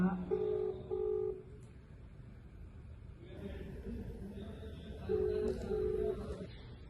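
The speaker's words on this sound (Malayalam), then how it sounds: "ഓക്കെ, ബെല്ലടിക്കുന്നുണ്ട്, എടുക്കുന്നില്ല." A phone rings on an outgoing video call with repeating electronic ringback tones in short double bursts, faint and steady, over a low background hum.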